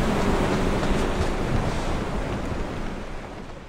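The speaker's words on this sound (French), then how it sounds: "Le vent hurle tellement qu'on a du mal à s'entendre." Storm waves crash and wind howls at sea around tuna fishing boats caught in a gale, forming a loud, unbroken roar that eases slightly toward the end.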